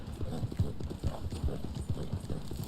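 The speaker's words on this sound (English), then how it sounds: "The Black Arabian horse that I'm riding right now." A black Arabian horse gallops in the video game Red Dead Online, its hoofbeats a steady, rapid clip-clop rhythm at close range with light background noise throughout.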